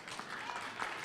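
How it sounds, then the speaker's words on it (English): A town hall audience bursts into applause, a dense, steady wash of clapping throughout the brief moment. "An applause for yourselves."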